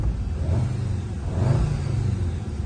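A warmed-up 2014 Volkswagen Jetta idles steadily after starting, a low, even engine rumble heard from close by, swelling slightly midway and with no one speaking.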